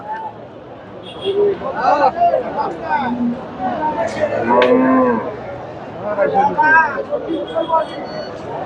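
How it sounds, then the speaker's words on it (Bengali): A Friesian dairy cow at a busy cattle market near Bogura gives several loud, close moos. People talk around it and crowd babble runs underneath. "এই যে গরুটা"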